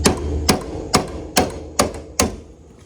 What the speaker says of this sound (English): I have to use the hammer to pull this out.